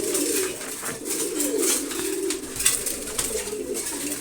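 Soft, low pigeon cooing continues throughout, repeated murmuring calls at moderate distance with no talking.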